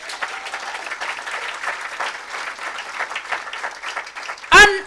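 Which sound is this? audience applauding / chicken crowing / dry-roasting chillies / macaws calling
audience applauding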